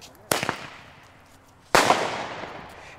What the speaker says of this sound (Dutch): het zijn geen vuurpijlen, want het is zwaar vuurwerk